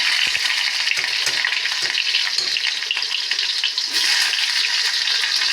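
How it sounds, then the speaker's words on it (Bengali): Onions drop into hot oil in a kadai and burst into a loud, dense, close hiss of frying that holds steady throughout, with a few soft knocks at the start. "দেখুন কড়াইতে তেল গরম হয়ে গেছে। এই যে পেঁয়াজ দিয়ে দিলাম"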